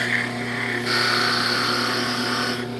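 Thin parting tool made from a DeWalt Sawzall blade cutting into the edges of a spinning wooden yoyo on a lathe, giving a steady motor hum with a brighter scraping whine that rises midway, then eases off.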